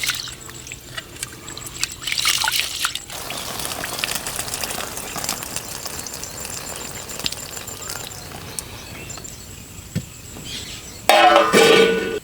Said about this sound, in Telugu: ఇప్పుడు మనం ఈ బాస్మతి రైస్ని 2 సార్లు కడుక్కొని ఒక అరగంట సేపు నానబెట్టుకుందాం.